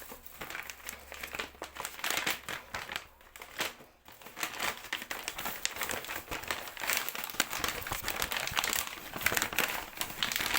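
Plastic bags crinkle and rustle continuously and close by as salted fesikh fish is wrapped, with brief pauses between bursts of handling.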